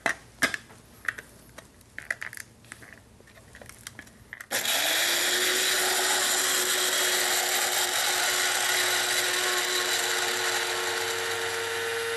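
A grinder churns cocoa nibs into a fine paste for homemade chocolate, starting abruptly after a few scattered clicks and knocks, then running as a loud, continuous whirring grind with a steady motor tone.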